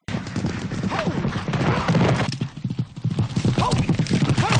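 Horse hooves clip-clopping at a steady pace, close and fairly loud throughout, with a voice calling out over them.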